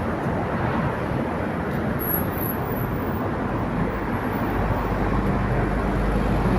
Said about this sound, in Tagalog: dumami yung sakyan oh.